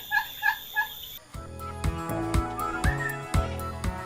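Turkeys of bronze, palm, bourbon red, white holland and black Spanish breeds on a turkey farm in Malang give three quick, rhythmic gobbling calls, followed by a busier stretch of steady pulsing sound and faint calls.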